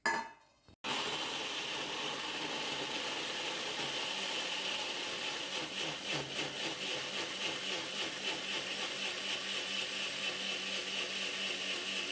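An electric mixer grinder blends rambutan juice with ice cubes, starting after a short clatter and running as a loud, steady whir with a rhythmic grinding churn throughout.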